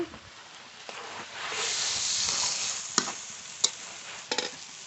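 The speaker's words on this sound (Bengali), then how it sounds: "মশলা দিয়ে এঁচড় খুব সুন্দর করে কষিয়ে নিয়েছি" Raw jackfruit stirred and sautéed with masala in a pan, a soft continuous sizzle and hiss with a few sharp spoon scrapes near the end, close and fairly quiet.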